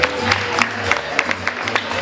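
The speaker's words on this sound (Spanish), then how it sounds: "Aplausos para ella que se animaron." Audience clapping and cheering at a school event for two women who volunteered, steady scattered claps with crowd murmur throughout, fairly loud and close.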